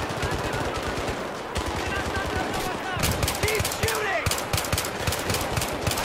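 Rapid automatic rifle fire from the video game Battlefield 3 cracks out in fast bursts, loud and close, while a player talks over the shooting.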